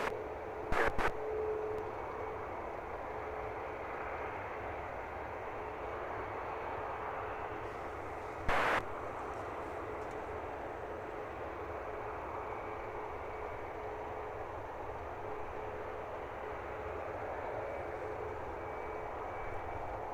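A Wizz Air jet rolls for takeoff at London Luton Airport, its engines a steady, broad roar heard from a distance that holds evenly for the whole span, with a couple of brief sharp clicks near the start and middle.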